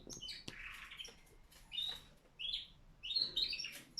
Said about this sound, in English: As you can hear, birds are great